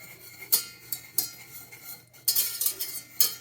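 A thin, lightly structured whisk scrapes and clinks against a metal pan while working flour into oil for a roux, in irregular bursts of sharp metallic strokes, close and fairly loud with no talking.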